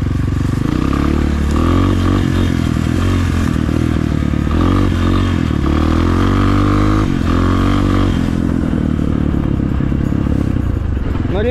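A Rottor Titan 250cc motorcycle engine roars loudly and continuously while riding uphill and accelerating, its pitch rising and falling with throttle changes, with clattering noise throughout.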